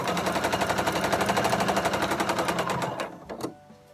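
A sewing machine sews a straight stitch in a fast, even, rapid clatter of needle strokes close by, then slows and stops after about three seconds with a couple of final knocks.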